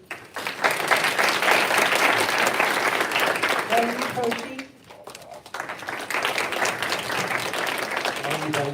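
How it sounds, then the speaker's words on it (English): An audience at a school board meeting applauds newly introduced staff. The clapping is broad and sustained, dips briefly midway and then resumes, while a voice reads out a name over it. "Hold applause at the very end"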